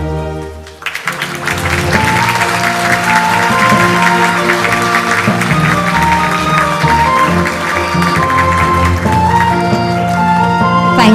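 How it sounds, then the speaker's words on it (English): An audience at a global AI forum in Seoul applauds through a commemorative group photo, a loud sustained wash of clapping, with music playing over it. "We'll take a photo as we applaud."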